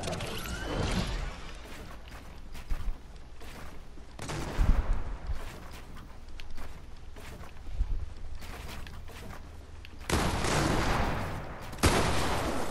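Rapid bursts of SMG fire in a shooter video game, loud and close, come in several clusters with mechanical clicks and gear-like rattles between them and no talk over them.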